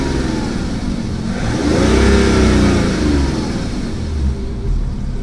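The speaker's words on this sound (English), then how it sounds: "the inline-6 engines from BMW sound awesome" A BMW inline-six engine revs up strongly, pitch climbing and holding near the peak before easing back, loud and close with steady engine roar throughout and no talk.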